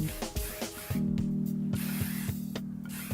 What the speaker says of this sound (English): So now I'm going to spray with just a light hold hairspray.